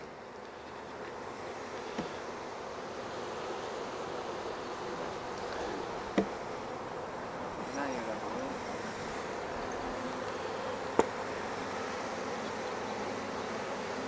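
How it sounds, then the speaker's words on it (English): Dense, steady buzzing of many honey bees inside an open hive, a continuous droning hum with a couple of faint clicks or taps along the way. "Got a lot of bees in here."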